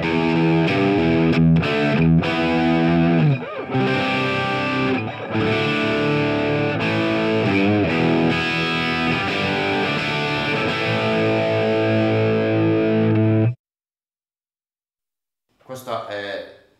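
Heavily distorted electric guitar through a Marshall JMP 2203 amp simulator plugin at default settings plays dense chords and riffs for about thirteen seconds, then stops abruptly; after a short silence a brief burst returns.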